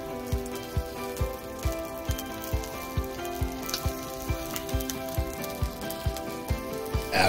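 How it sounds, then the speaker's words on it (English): Ribeye steak sizzling in a pan for breakfast at a campsite, a dense continuous crackle and spatter with a soft regular rhythmic thump running underneath throughout. "we might as well go ahead and cook that ribeye for breakfast"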